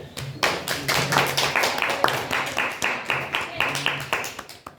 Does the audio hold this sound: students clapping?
yes